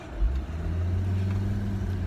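A car pulls in and parks at a mountain pool, its engine giving a steady, close, low hum with a slight rise in revs and no talking.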